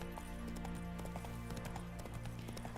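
Horse hooves clip-clop steadily while riding in the video game The Witcher 3, a continuous rhythmic gait over constant in-game ambience and music, with no speech.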